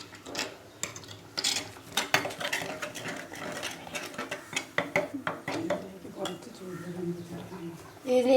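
Sardine chili curry being stirred in a pot, with a run of scraping and clinking utensil strokes against the metal sides, close up and fairly quiet, mixed in with some background noise and faint voices.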